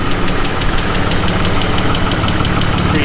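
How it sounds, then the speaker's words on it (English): A car engine idles with a rapid, regular ticking near the exhaust manifold, a suspected lifter tick, loud and close over a constant engine rumble. "That tick didn't go away. I'm really praying and hoping it's not a lifter tick. It's coming from over by the manifold."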